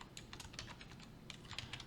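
Fingers type a search term on a computer keyboard in a quick, soft run of key clicks, faint and close, with no voices.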